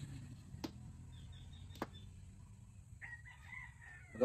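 A rooster crows in the distance over faint background noise, with a couple of sharp knocks nearby.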